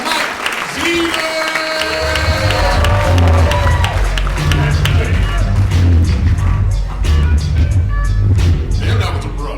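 Crowd at a Chicago comedy club claps and cheers loudly as a comedian is introduced, a thick, continuous roar of hands and shouts under a booming low rumble, with voices heard over it.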